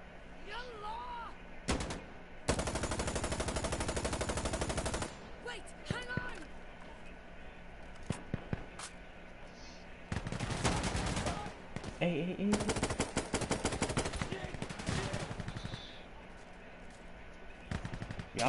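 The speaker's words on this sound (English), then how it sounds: "We shoot him, we shoot him." Bursts of rapid automatic gunfire from a video game, a long sustained stream followed by several shorter clattering volleys, fairly quiet overall, with players talking over the action.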